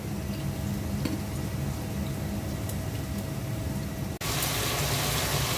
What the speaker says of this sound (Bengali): শিং মাছটা কষিয়ে নিলাম